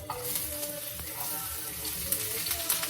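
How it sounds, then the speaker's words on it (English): Chopped onions sizzling and frying in a hot pan, a steady crackle with occasional stirring clatter, close and fairly loud. "we're going to put half the onions in there"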